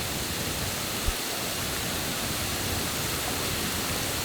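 Spring water in the mountains of Gunma, Japan, flowing and rushing as a steady, broad hiss that stays even from start to finish, with one faint knock early on and no voices.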